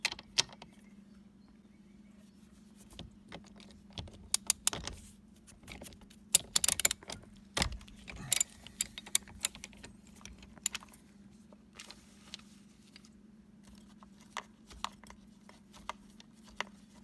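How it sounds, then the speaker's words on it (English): A steering wheel nut on a Toyota being loosened with a 19mm socket: a quiet low hum under scattered sharp metallic clicks and jangles that bunch together in the middle, close, with no speech. "With a 19mm socket, or I think a 3/4 fits, loosen this nut that holds the steering wheel on."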